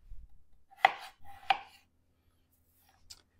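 A knife cuts through potato slices on a Val Cucina cutting board, giving two sharp, close chops about half a second apart, then quiet with a faint tap near the end.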